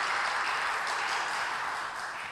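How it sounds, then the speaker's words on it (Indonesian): A congregation at a church wedding blessing service claps together in a soft, even spread of applause that tapers slightly toward the end, somewhat distant and moderately quiet. "Mari kita berikan tepuk tangan sebagai dukungan kita bagi mereka."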